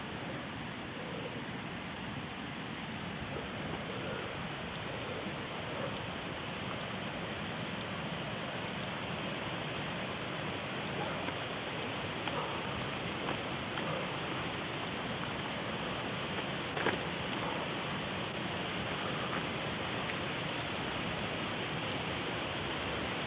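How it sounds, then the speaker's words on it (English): The waterfall on Ridley Creek gives a steady, broadband rush of falling water that stays constant and fairly loud all through, with no voices and no breaks. "And this is the waterfall at Ridley"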